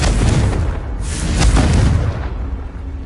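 A loud explosive boom from the Confringo blasting spell in a Harry Potter parody, a heavy low rumble that swells and holds for about three seconds before easing off.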